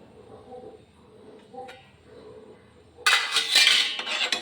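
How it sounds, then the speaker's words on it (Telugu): Lid set on a pot of semiya sabudana payasam, quiet kitchen clinks followed by a sudden loud metallic clatter and rattle of the lid on the pot. "మూత పెట్టేసుకోవాలి."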